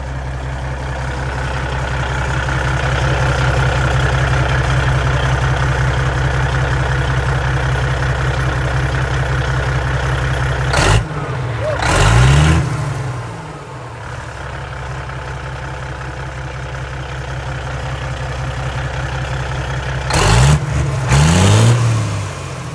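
A pulling truck engine with a newly installed massive turbo idles with a steady, deep rumble, then revs sharply twice, each rev rising and falling before it settles back to idle.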